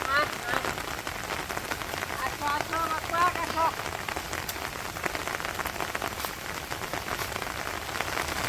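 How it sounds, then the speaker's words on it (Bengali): Steady rain falls continuously on a Bangladeshi village, a dense even patter on surfaces close by, with a faint voice briefly underneath. "তো এই যে বৃষ্টি হইতেছে, ভোরের আগে থেকে টানা বৃষ্টি"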